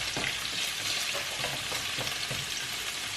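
Carrots frying in a pan give a steady, close sizzle with a few soft stirring scrapes and clicks mixed in, and no one speaks.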